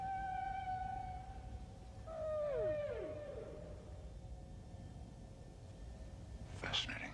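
A synthesized Star Trek sound effect processed to sound underwater: a steady tone falls away into warbling, descending sweeps over a dense, muffled wash of low rumble, ending with a brief burst.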